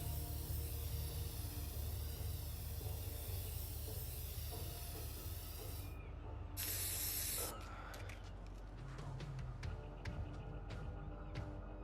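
A spray can hisses in a long, loud continuous burst while a billboard is painted in Infamous Second Son, then breaks off into short spurts and clicks over a low background hum.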